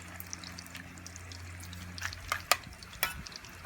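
Tostones, plantain slices, frying in hot oil in a pan, with soft sizzling crackles and a few sharper pops and taps as the slices are settled in the oil.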